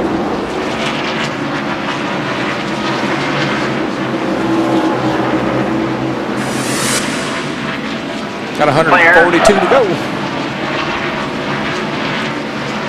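Stock cars roar through heavy traffic at Martinsville during the 2002 Virginia 500 NASCAR race, a loud, continuous engine drone that swells briefly near the end. A commentator talks over it.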